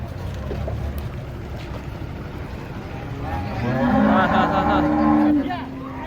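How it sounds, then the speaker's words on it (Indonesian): Low background rumble and faint distant sounds give way to a loud, drawn-out moo from an agitated cow near the end, close and strained, with a short quieter call after it. "Sapi ngamuk."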